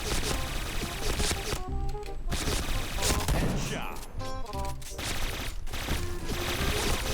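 Rapid bursts of dual-gun fire in the shooter Point Blank crackle in dense, repeated volleys with short pauses between, loud and close, with faint mechanical clicks.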